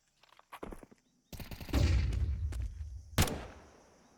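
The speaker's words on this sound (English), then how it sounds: "An op in Junior's hands and a bullet in his body" Counter-Strike match on the Ancient map at an ESL Challenger event, with sharp close gunshots including an AWP sniper crack and scattered rifle fire, footstep taps, and a loud final shot.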